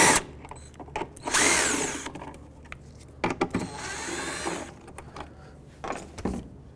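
A power drill backs out the 10mm taillight screws on a 2005-2009 Chevy Equinox in several short, loud, close bursts of whirring, with brief pauses between them.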